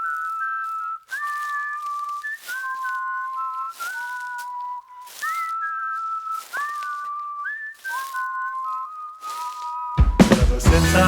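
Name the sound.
whistling intro of a song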